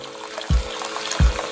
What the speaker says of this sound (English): I just kind of do things by eye now and just pour the water in